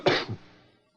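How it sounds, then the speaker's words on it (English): A single short cough, a sharp burst followed by a softer second push, fading quickly into silence. "You know, coughing."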